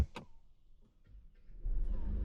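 A click, then a brief starter crank and a 2026 Mercedes-Benz C220d diesel engine catching and settling into a low, steady idle nearby.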